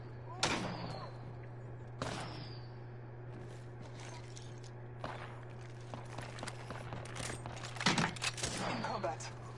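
Apex Legends gunfire cracks out in a few sharp, scattered bursts over a low steady hum of game ambience, with footsteps and a voice speaking in between.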